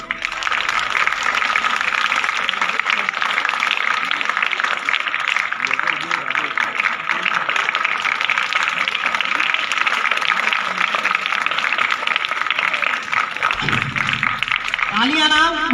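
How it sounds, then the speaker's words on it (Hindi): An audience at a school welcome ceremony keeps up dense, sustained clapping for many seconds at a steady level, and a voice cuts in briefly at the very end. "तालियां ना नहीं रुकनी चाहिए"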